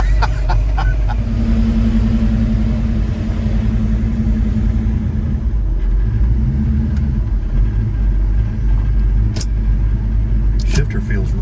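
A Chevrolet Malibu drag car's engine runs steadily with a loud, deep rumble that continues without a break, close by from inside the car, with muffled voices now and then.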